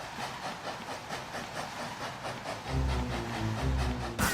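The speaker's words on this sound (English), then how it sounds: "You can hear the train chugging, and then the strings come in." A chugging train in the video game Wario Land: Shake It! puffs with a steady, rhythmic hiss. After a few seconds, dramatic orchestral strings and music swell in over the chugging.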